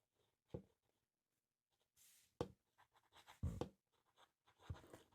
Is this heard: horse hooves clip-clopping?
no